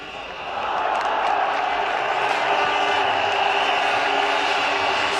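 A cricket crowd at a 1999 World Cup semi-final between New Zealand and Pakistan, cheering a boundary with a sustained, broad roar that swells after half a second and holds steady.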